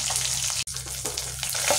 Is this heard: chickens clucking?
no